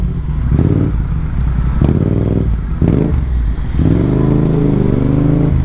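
A motorcycle moves through rainy traffic, its engine rumbling close and loud in repeated surges as it speeds up, with wet road noise and clatter around it.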